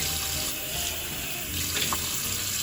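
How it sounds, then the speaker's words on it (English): Tap water runs steadily into a sink to rinse out a paint cup, a continuous close hiss and splash with no voices. "Turn on the water to rinse out your cup."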